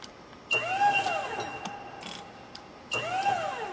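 A scissor lift drives and turns during a pre-start inspection, giving two bursts of electric motor whine with rising and falling tones. Faint clicks and a quieter hum come between the bursts, and no one talks.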